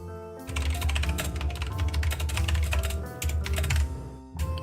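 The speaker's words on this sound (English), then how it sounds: "if you can hear the typing in the background" Rapid clicking keystrokes on a computer keyboard run nearly continuously, close and crisp, over a low hum of background music or game sound.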